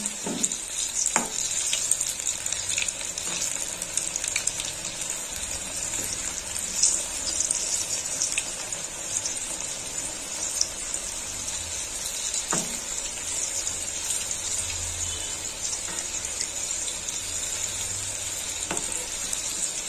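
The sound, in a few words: dumplings frying in hot oil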